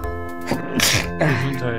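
A single sharp sneeze bursts out close by, with a short voiced lead-in and breathy exhale, amid a German-language play-through of the adventure game Simon the Sorcerer.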